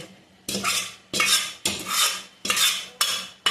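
Half-cooked tomato biryani is mixed in a pot with a metal spoon: six firm, evenly spaced scraping strokes about half a second apart, each starting with a sharp clack, close up with no voices.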